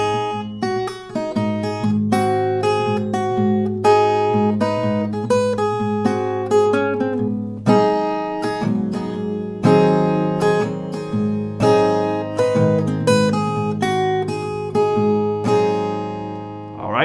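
An acoustic guitar strums a song in a steady pattern with extra picked notes woven between the strums, played close and clear with no talk over it.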